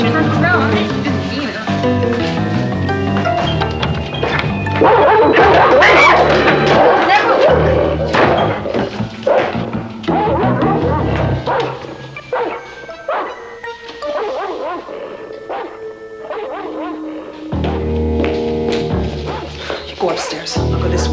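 A frantic dog barks and yips hysterically while jumping around outside a door, giving loud, rapid, repeated barks with thumps and whimpers, mixed with agitated human voices talking over it.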